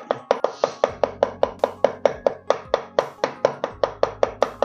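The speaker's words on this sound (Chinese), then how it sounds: "接下来再把它剁碎。" Garlic cloves being minced with a kitchen knife on a cutting board, a steady run of about twenty-five quick, sharp, evenly spaced chops, close and loud, with no talking.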